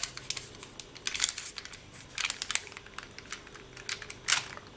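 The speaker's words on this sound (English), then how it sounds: "Now I'm just going to gently peel" A textured polymer clay sheet is gently peeled up, giving soft sticky crackles and light tearing ticks in scattered bursts, faint and close.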